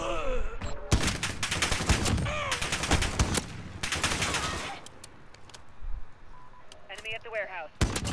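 Gunfire from a Barrett .50 cal rifle in Call of Duty Modern Warfare, a string of sharp loud shots and bursts among game effects, with a voice talking over part of it.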